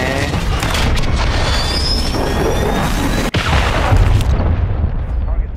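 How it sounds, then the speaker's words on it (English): A cruise missile explosion in the Modern Warfare 3 video game, a loud, close, rumbling boom with a roaring blast that sustains for several seconds and is briefly cut by a sharp crack. "Nice cruise missile"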